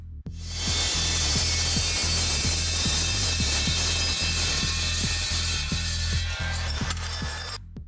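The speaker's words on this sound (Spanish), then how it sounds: "Iré a cortarlo con una sierra circular." A circular saw cuts through a length of exhaust tubing about 8 inches long during a race car suspension upgrade, giving a loud, steady whine with rhythmic blade ticks that runs unbroken for several seconds and then stops.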